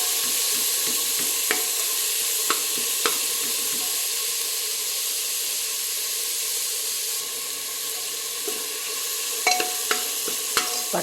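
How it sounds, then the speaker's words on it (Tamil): Tomatoes with ginger-garlic paste sauté in a pan for a vegetable biryani, a steady bright sizzle running throughout with occasional sharp clicks of stirring, close and unaccompanied by voices. "இஞ்சி பூண்டு விழுது வந்து தக்காளி நல்லா வதங்கட்டும்"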